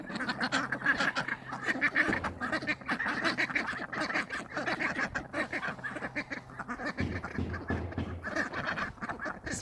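A flock of spoiled pet ducks kept at home quacks and honks steadily and loudly, with overlapping calls close by for the whole stretch and no talking.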